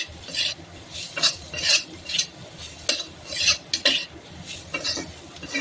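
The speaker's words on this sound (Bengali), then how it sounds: "জিরে গুঁড়ো এবং গোলমরিচ গুঁড়োটা খুব ভালোভাবে পেঁয়াজ এবং পনিরের সঙ্গে নেড়েচেড়ে মিশিয়ে নিলাম।" Paneer and onion being stirred with cumin and pepper powder in a pan, a spoon scraping and clinking in repeated bursts with a light sizzle underneath, close and fairly loud, no talking.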